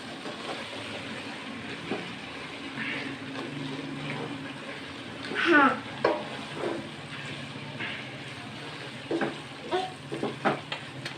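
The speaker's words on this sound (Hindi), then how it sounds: "इसको मसाले में अच्छी तरीके से मिक्स करेंगे।" Chicken and mixed vegetables, including cauliflower, are stirred into masala in a pan, giving a steady low sizzle with repeated scraping and clattering strokes of a spoon against the pan.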